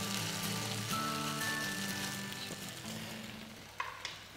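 Grated potatoes for Swiss rösti hit a hot pan and fry with a steady, close sizzle that slowly fades a little, with a couple of soft knocks as they are spread out.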